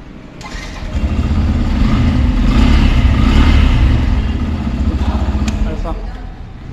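A 2021 Yamaha FZ-X motorcycle engine revs up from idle, climbing to a loud sustained roar and easing back down, heard up close.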